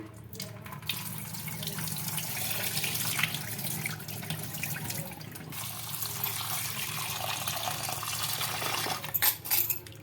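Water pours off washed potatoes in a kitchen, a steady splashing stream with occasional clinks of a pot or utensils, under faint background noise.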